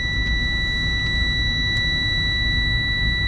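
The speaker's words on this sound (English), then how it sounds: "My low air warning light and buzzer came on at 55 or 60 psi." Truck air brake low air pressure warning buzzer sounding steadily as a high, continuous tone, sustained throughout alongside a low engine idle rumble.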